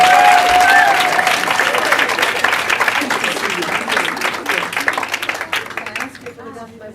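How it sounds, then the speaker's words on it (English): A storytelling-night audience breaks into a warm round of applause for the next storyteller, a dense, loud wash of clapping with a voice talking over it, thinning and fading out toward the end. "give her a warm round of applause"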